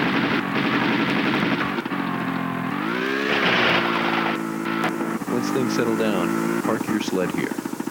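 Machine guns mounted on a snow sled rattle in rapid bursts in Tomb Raider 2, over a loud, revving engine drone. The firing grows denser toward the end, and a voice talks throughout.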